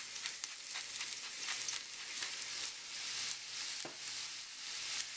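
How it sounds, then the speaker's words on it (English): Vegetables sizzle in a hot pot as albondigas soup is started, with a soft continuous frying crackle and light stirring scrapes, fairly quiet and close. "And it's hot, so I'll just add all these vegetables."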